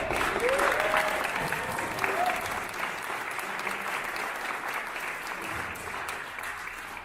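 Fans at a Xiaomi launch event for the Redmi Note 7 and Mi 9 applaud in a steady, dense wash that fades slightly, with a voice briefly heard near the start.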